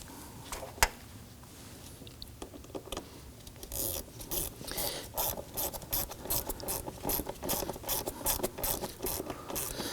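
A ratchet drives in the upper screw on a mass air flow sensor of a 2001-2009 Volvo S60 2.5L five-cylinder, giving close, crisp repeated clicking in quick bursts that grows busier toward the end.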